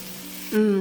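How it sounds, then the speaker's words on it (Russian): Mushrooms sizzle frying in a pan, a steady hiss that swells louder partway through as the pan heats up, with no voices. "Обжариваем грибы 5-7 минут до светло-золотистого цвета."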